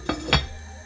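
A metal lid set down onto a pot of simmering turmeric ginger tea, giving two brief clanks close by in a quiet kitchen, the second louder and ringing a little.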